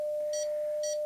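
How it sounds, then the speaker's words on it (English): A SOTABeams Go4Lo SWR meter beeps twice in about a second, indicating an SWR around 1.1 to 1, short regular pulses over a steady, thin continuous tone. "it's beeping at about 2 beeps a second"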